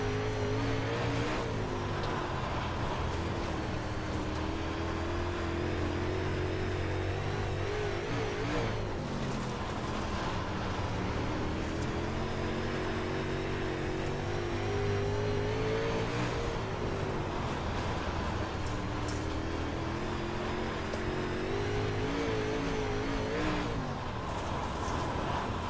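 A race car engine drones continuously on the oval at Kern County Raceway Park in iRacing, its pitch rising and falling through the laps, steady and fairly close, with no talking.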